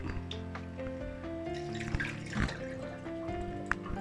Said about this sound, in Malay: you hanya perlu rendamkan saja kokedama ni di dalam air untuk beberapa minit